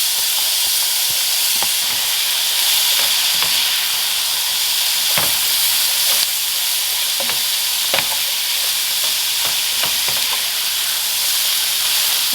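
Garlic, browned potatoes and vegetables fry in oil in a pan, giving a dense, steady sizzle close by, broken by frequent scraping and clicking stirs, with no voices.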